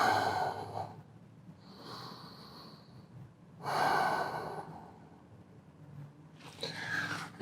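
Slow, deep nasal breaths, about three audible inhale-exhale cycles, taken while resting the forehead on the hands in a beginner yoga pose; close and quiet with pauses between, no talking.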